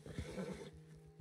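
A horse in the Red Dead Online video game gives a short, quiet whinny, a brief neigh heard close up with no talking.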